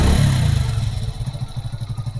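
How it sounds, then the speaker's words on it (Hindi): A motorcycle fitted with an AC pump starts up with a loud cranking burst, then settles into a rapid, even idle chug close by, heard alone without speech. "फिटिंग कर दिया, अब बाइक को स्टार्ट कर रहा हूँ।"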